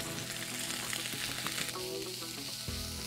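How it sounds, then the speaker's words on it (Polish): Onion, garlic, juniper berries, rosemary and apple pieces frying in a hot pan, a steady dense sizzle with crackling pops and occasional clinks of stirring, close up and continuous throughout. "Wszystkie składniki smażę etapami."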